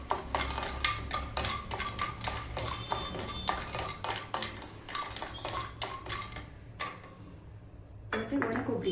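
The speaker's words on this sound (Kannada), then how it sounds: "ಬಾದಾಮಿ ಹಾಕಿ ಫ್ರೈ ಮಾಡ್ಕೊಳ್ಳೋಣ" Almonds frying in ghee for a ragi flour barfi, stirred with a metal spoon that clinks and scrapes against the pan in a busy, near rhythm before a brief lull.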